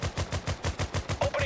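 Squad gunfire in a modern military strategy shooter: a brief, steady string of about eight evenly spaced automatic shots, loud and close, with no other sound.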